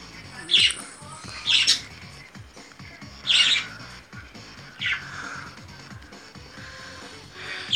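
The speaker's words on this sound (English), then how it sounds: "I'm also with my birds, too." Sharp, high squawks from pet birds come in short bursts every second or two, fairly close, with faint background noise between calls.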